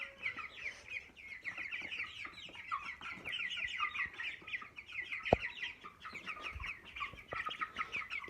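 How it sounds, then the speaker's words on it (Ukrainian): Broiler chickens raised at home give soft, repeated clucks close by, with a steady chatter of the flock and a few quiet thumps and knocks underneath. "Курочка."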